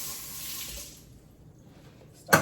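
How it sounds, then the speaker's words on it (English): A can of green beans is rinsed under a kitchen tap, with a soft stream of running water that fades before a short, sharper splash at the end. "by rinsing my can off,"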